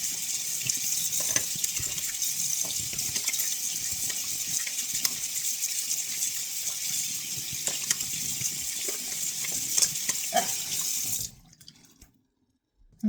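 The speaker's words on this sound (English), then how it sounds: "And then I wash my hands because," Water runs steadily from a bathroom tap into a sink while hands are washed, a close continuous splashing gush with small drips and knocks for about eleven seconds before the flow shuts off and goes quiet.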